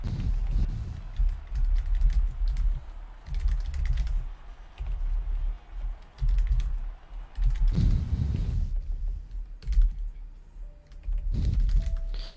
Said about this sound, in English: you can hear literally every tap of key or on the desk, everything that I do